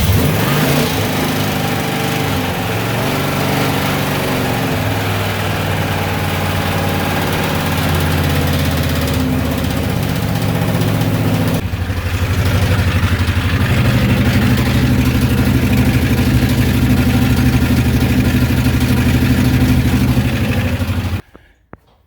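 A swapped engine idles steadily and loudly, a droning, slightly knocking hum that runs continuously before cutting off abruptly near the end, with no talk over it.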